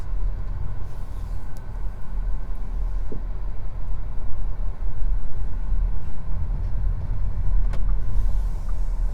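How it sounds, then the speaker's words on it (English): A Škoda Enyaq 82 kWh electric car pulls away, heard from inside as a low, even rumble of road and cabin noise with a faint whine, a few light clicks, and no engine roar. "Just step on the gas or accelerator pedal, and we are off."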